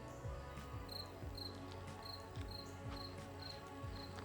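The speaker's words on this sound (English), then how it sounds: "What is more majestic than the crickets cricketing?" Crickets chirp in steady, evenly spaced pulses over a dense, continuous outdoor background, with no voices.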